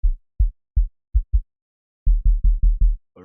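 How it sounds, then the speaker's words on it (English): A deep, booming kick drum from an FL Studio Afrobeat pattern thumps alone, five spaced hits followed after a short pause by a faster run of five, dry and close with silence between hits. "let me bring in the kick"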